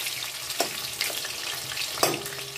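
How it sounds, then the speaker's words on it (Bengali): Chitol fish muitha dumplings fry in hot oil with a steady crackling sizzle, a few soft scrapes of a spatula turning them. "এটাকে ভাজতে হবে কিন্তু একটু লাল করে"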